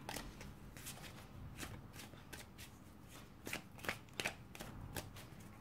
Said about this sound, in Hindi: राजस्थान रॉयल के लिए हम कार्ड निकालेंगे।